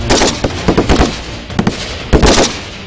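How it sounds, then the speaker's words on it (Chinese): Chinese and Indian soldiers swap rifles and fire each other's weapons on a range during the 2016 joint army counter-terrorism exercise; several sharp, loud shots crack in irregular bursts, close by, with no voices. "为了更加清楚对方的武器性能，在互相传授动作要领后，中印双方互换枪支进行射击"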